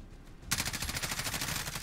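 Rapid automatic gunfire in Warzone bursts in after a half-second of quiet, then keeps rattling in a dense, steady stream, loud and close.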